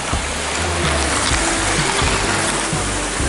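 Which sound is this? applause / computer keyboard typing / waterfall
waterfall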